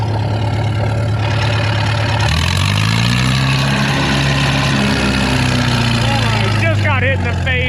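A Case tractor engine runs steadily at a low, throbbing idle, close and loud throughout, with a brief shift in pitch partway through as it keeps chugging.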